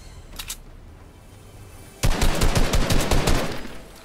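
Light machine gun fire in Fortnite: after a quiet stretch with a brief early burst, a loud sustained string of rapid shots starts abruptly and pounds on at a steady fast rhythm.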